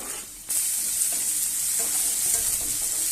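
Cloves, ginger, onion and tomato frying in a pan for rava upma, a steady close sizzle that swells after a brief quieter start, with occasional stirring scrapes and no talk.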